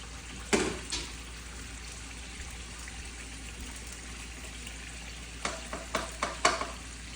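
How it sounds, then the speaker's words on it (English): A spoon stirs tomato sauce and spices in a pot: a couple of scrapes early, then a quiet stretch of low hiss, and a quick cluster of stirring knocks near the end. "Now I'm going to stir."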